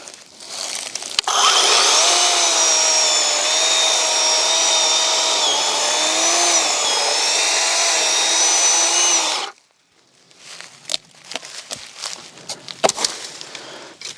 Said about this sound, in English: Can't tell you how much I've enjoyed this electric chainsaw from Works.